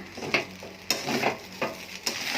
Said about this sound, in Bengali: আজকে রাতের জন্য এখানে একটু ঢেঁড়স ভেজে নিচ্ছি